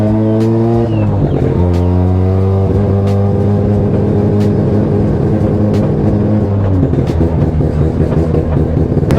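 A Mazda 2 fitted with a 13B PP-port rotary engine and an MR2 gearbox revs hard and loud throughout, with a choppy, stepped brap-brap idle between rising and falling blips.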